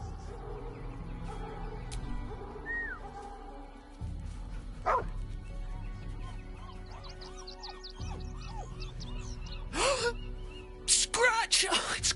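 A dog in the video game Baldur's Gate 3 lets out several barks and yips over a low ambient background. Character voices talk around the barks, and a louder burst of barking comes near the end.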